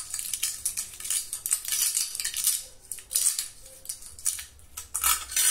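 A steel trowel scrapes and smooths a burnt cement floor finish. The scraping rasps closely and continuously in repeated strokes, with metallic clinks now and then and no voices.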